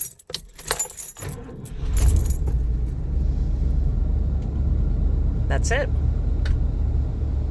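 A 1988 Ford Tioga motorhome's engine starts from cold: keys jangle and the starter cranks briefly, then the engine catches and settles into a loud, steady rumbling idle, with a short remark spoken at the start.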